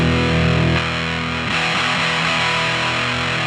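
Thick, fuzzy Big Muff style distorted guitar holding a sustained chord, then shifting to a gritty rumble, loud and saturated with no voices.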